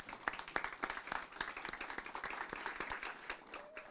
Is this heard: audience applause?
yes